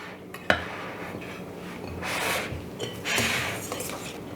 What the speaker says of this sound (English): I can use this spoon to spoon in my batter